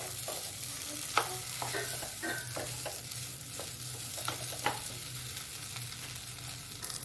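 A spatula stirs spiced potato samosa filling in a pan, making quiet scrapes and taps over a low, even sizzle, with no speech.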